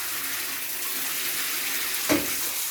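A shower runs from a Delabie thermostatic mixer tap as a steady, close hiss of water, with one brief knock partway through.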